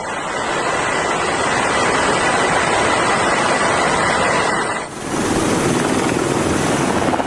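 A helicopter landing on a cargo ship at sea, with a loud, steady rotor roar throughout. The tone shifts abruptly partway as wind and wave noise mix in.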